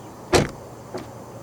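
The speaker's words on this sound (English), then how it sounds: "The windows dip down a little bit as you open the doors" A 2022 Volkswagen Arteon frameless power window dips briefly as the door opens: a short, faint motor whir with a click, then a softer second whir, close by in a quiet setting.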